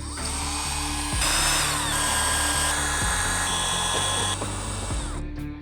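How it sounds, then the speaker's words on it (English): A power driver with a T27 Torx bit backs out the windshield screws on a 2022–2025 Harley-Davidson Low Rider ST, a loud, close whirring motor with several short stops and restarts and no talking. "It's gonna be done with a T27 Torx bit, and there's 6 screws that hold it on."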